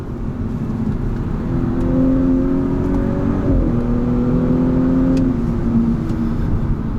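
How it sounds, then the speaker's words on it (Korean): A steady Audi S4 TFSI quattro engine drone with a rising, whirring turbocharger whine layered on top, swelling and sliding in pitch as the car accelerates. "터빈이 아주 윙 하고 돌아가는 소리가"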